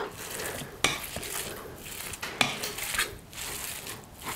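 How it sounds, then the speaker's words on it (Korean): Tofu being mashed finely with a potato masher in a home kitchen, soft squishing presses with a couple of sharp clacks against the bowl, steady and close, no talking. "그래서 감자 으깨는 매셔라고 하죠. 이것으로 한번 곱게, 더 곱게 으깨 보도록 하겠어요."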